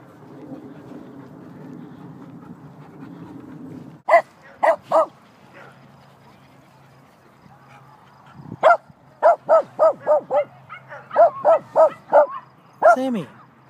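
Several dogs bark in a sharp run of repeated yelps, some loud and close, others further off, while people talk over a busy outdoor background.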